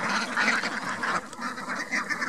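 A flock of about 300 ducks on a duck farm, a dense continuous chorus of quacking at moderate distance, steady without pauses.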